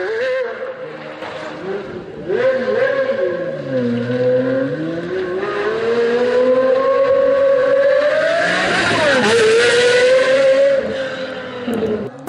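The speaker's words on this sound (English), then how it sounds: "The cause for this amazing noise was the combination of the Mercedes V12 with these beautiful equal" A Pagani Sonder's Mercedes M120 V12 with equal-length 6-in-1 headers revs loudly and close by, its smooth, high-pitched wail rising and falling through several swells before climbing to a sharp peak and settling back.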